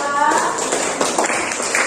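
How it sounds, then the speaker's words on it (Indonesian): A classroom claps for a student group after its presentation, a short burst of scattered hand claps mixed with talking voices. "tepuk tangan untuk kelompok 2"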